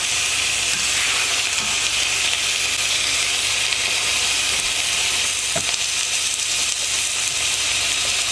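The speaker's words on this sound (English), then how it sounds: "So I just want to get a nice little sear on each side." Boneless pork chops sear in a hot pan, giving a loud, dense, unbroken hiss and crackle that holds steady at close range with only a couple of faint knocks.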